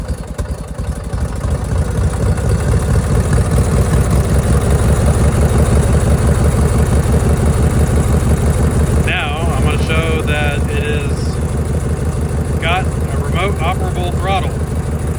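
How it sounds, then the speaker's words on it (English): Small engine started by switch or pull start, catching and then running with a steady, loud, rhythmic idle throughout, close by, while someone talks over it. "it starts with a switch or a pull start"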